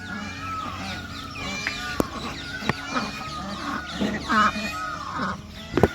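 Young chukar partridge chicks on a farm give a steady stream of thin, high peeping and chirping calls at close range, with soft scuffling and a few sharp taps, and no voices.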